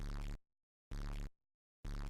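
A custom balloon pop sound from the video game Bloons TD 6 plays three times in an even rhythm, each a loud, buzzy burst lasting about a third of a second, separated by silence.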